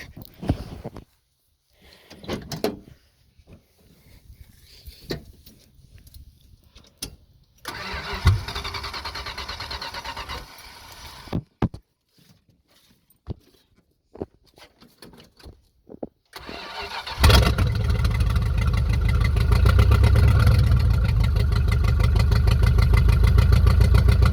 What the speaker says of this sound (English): I will just connect the battery there and start it really quick